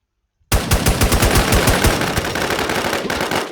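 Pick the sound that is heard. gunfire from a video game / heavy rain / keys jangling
gunfire from a video game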